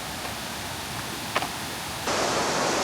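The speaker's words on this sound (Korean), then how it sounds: "물소리가 잘 들리네요." Steady broadband rush of flowing water, likely a stream or waterfall in Kagoshima, Japan, filling the whole clip and swelling louder near the end, with no talk.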